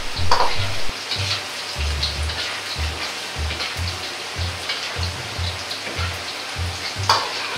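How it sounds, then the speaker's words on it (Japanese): King oyster mushrooms deep-fry in oil with a dense, close crackling sizzle, overlaid by a regular low thudding pattern throughout. "エリンギを揚げていきます。"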